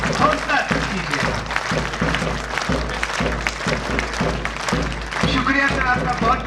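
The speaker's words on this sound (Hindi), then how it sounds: "जोरदार तालियों के साथ इनका हौसला कीजिए।" An audience at a graduation ceremony gives hearty, sustained applause, a dense crowd of clapping hands that is loud and fairly close, with some rhythmic pulsing and voices mixed in.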